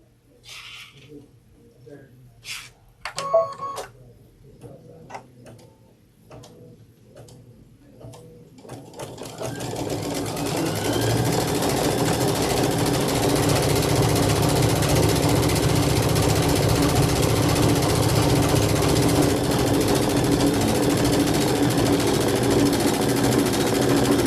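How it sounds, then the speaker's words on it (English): An embroidery sewing machine stitches a decorative pattern on fabric for a seasonal jar topper. A steady, loud mechanical whirring starts partway in and runs continuously after a few soft clicks and handling sounds. "And it's going to do the decorative stitch."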